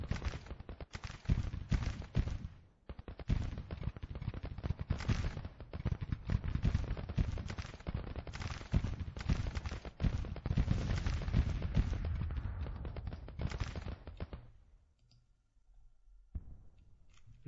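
Civil War musket volleys and artillery in the Grand Tactician strategy game: a dense, continuous crackle of massed gunfire with heavy booms rolls on for about fourteen seconds, then drops away to near quiet.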